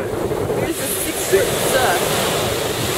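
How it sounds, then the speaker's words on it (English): Big ocean surf breaking on a beach on a rainy day, a steady loud wash of waves mixed with wind buffeting the microphone, with no talk. "Very big surf"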